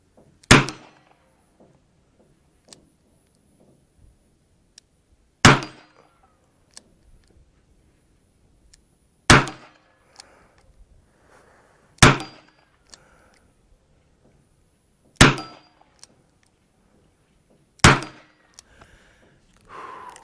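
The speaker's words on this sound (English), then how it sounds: "we'll go ahead and do one more string with the nickeled gun" A string of six sharp gunshots from a nickeled .32-20 revolver dating from around 1915, fired at a target, each report loud and cracking, spaced a few seconds apart with quiet between.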